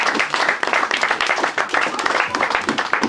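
Church congregation clapping and cheering in praise during a French-language worship service, dense steady applause with some voices mixed in, loud and close throughout.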